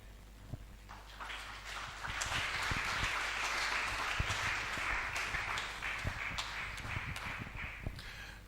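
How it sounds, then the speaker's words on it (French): Audience at a church sermon claps in a sustained spread of many hands, moderately distant, with scattered sharper individual claps over a low room hum and no speech. "That question did not merit clapping"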